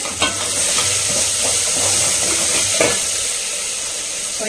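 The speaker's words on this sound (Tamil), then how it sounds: "அந்த இஞ்சி பூண்டு பேஸ்ட் வதங்கிடுச்சு பெருங்காயம் கொஞ்சம் சேர்த்துக்கிறேன்" Ginger garlic paste with a pinch of asafoetida fries in a pan, giving a loud, steady close sizzle with faint stirring scrapes and no talking.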